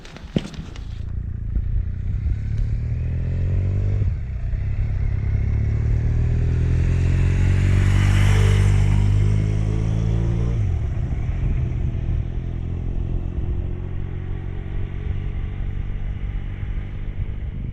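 Royal Enfield Himalayan motorcycle riding on the road to Prudhoe Bay, Alaska, a continuous loud engine drone with wind rush that swells and peaks midway, then settles into steady cruising.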